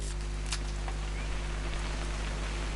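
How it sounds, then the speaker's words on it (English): Rain in the video game What Remains of Edith Finch, a steady close hiss of falling drops with a few sharper patters, alone over a low constant hum. "It's gonna rain the whole weekend, isn't it?"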